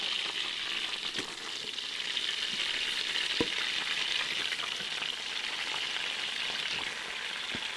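Flour-coated pieces of chuck roast beef sear in melted butter with a steady, close, crackling sizzle and occasional sharper pops, and no voices over it.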